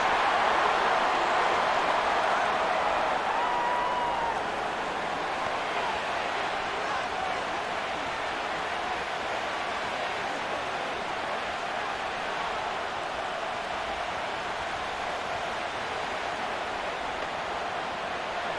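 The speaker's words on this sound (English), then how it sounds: "This crowd turning up the decibel level." Steady, dense stadium crowd roar in a Madden NFL 25 game between the Detroit Lions and Chicago Bears, a constant loud wash of noise with no clear breaks and no separate voices standing out.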